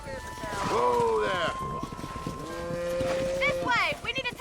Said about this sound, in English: Look at the cow.